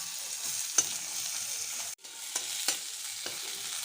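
Onions frying in hot oil in a pan while a Bengali rohu fish curry with yam is cooked, a steady close sizzle with a few scraping stirs and a brief drop near the middle.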